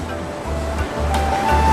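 Ocean surf rolls onto the beach at Pantai Watu Ulo in Jember, a steady broadband wash with rhythmic low swells rising and falling, loud and close, no voices.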